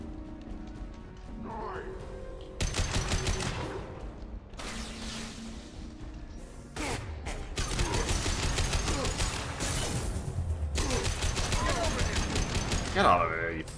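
Gunfire in the sci-fi shooter Mass Effect 2 comes in several loud bursts of rapid automatic fire separated by short pauses, with combat voices and game sounds between the volleys.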